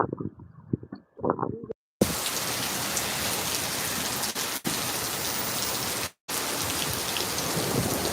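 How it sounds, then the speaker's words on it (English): Heavy steady rain pours down during a live storm outdoors near trees, with a loud continuous hiss that starts abruptly after a brief quiet voice, punctuated by rumbling thunder and two short dropouts. "You guys can also hear the thunder and lightning too"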